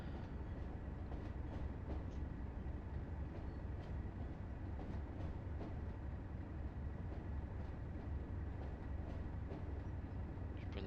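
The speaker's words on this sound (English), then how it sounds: "Just bring the train to a gradual halt." A coal train in the Train Sim World game rolls steadily along the Tees Valley Line, a continuous low rumble of heavy wagons with faint rail clatter, easing down as it slows toward a halt.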